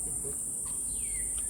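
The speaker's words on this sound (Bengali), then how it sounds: "কত ঝিঝি পোকার ডাক।" Crickets chirp among trees along a walking path in a leafy township, making a steady, faint, high-pitched trill that runs without a break throughout.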